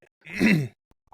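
A single breathy exhale or groan lands close into a podcast microphone, lasting about half a second, followed by faint small clicks in near silence.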